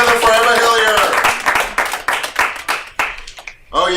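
Scattered clapping from a small audience at a comedy night comes in uneven bursts and gradually thins out, with a host's voice talking over it at the start and end.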